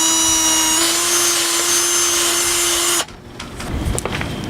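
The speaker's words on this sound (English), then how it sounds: "so we're just going to drill it out from both sides." A power drill works a tight pin hole in a sailboat mast track from both sides. A steady, high motor whine holds for about three seconds and then drops into quieter, scratchy grinding and rattling up close.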